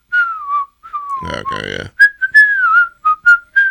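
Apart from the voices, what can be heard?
person whistling the tune of the Robin Hood rooster song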